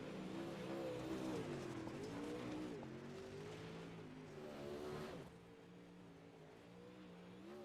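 Race cars in the iRacing sim on the final lap at Lernerville, a steady loud engine drone with rising and falling revs throughout, easing slightly toward the end.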